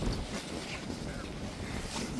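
Wind rushes and buffets the microphone in a brief, constant breathy roar, with a voice faintly present.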